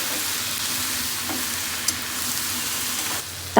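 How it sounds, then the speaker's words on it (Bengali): Finely chopped potatoes and fish roe sizzle in a hot pan, giving an even, loud frying hiss with a few faint stirring knocks and a sharper clack at the end, heard close and without talking. "ডিমের সাথে আলুটাকে ভালোভাবে নেড়ে চেড়ে মাখিয়ে নিতে হবে"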